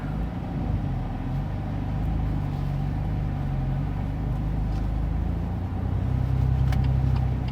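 A BMW M2 pulls away on a drive, its engine a steady low drone heard from inside the cabin, rising slightly in pitch and loudness toward the end.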